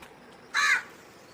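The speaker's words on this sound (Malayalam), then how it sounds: "കണ്ടോ തട്ടിയെടുക്കാൻ വന്നൊരു കാക്ക." A crow, swooping in to snatch a dog's food, gives one short, harsh caw close by against a quiet background.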